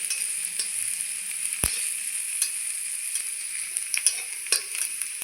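Chopped green chilli and onion fry in a pan for chicken kachori filling, a close, bright sizzle punctuated by sharp clicks and scrapes of a spatula against the pan.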